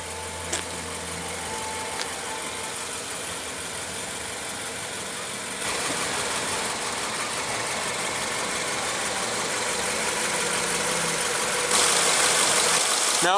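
A 2016 Subaru Outback's 2.5 L flat four-cylinder engine idles at a steady, even hum, continuous and moderately close, without talk, a brief louder hiss near the end.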